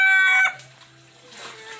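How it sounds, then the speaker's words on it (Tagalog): A rooster crows loudly and close for about half a second, the call cutting off abruptly, then chickens cluck more faintly in the background. "Meron ding manok dito mga paps, ang ingay."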